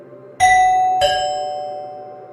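A doorbell in an apartment rings twice in quick succession, each bright ding-dong tone sounding loud and close and then ringing out slowly with no other sound.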